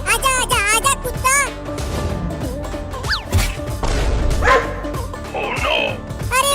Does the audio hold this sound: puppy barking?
yes